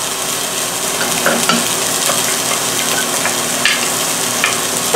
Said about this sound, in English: And you wanna hear that sizzle. That sizzle means it's at the right temperature.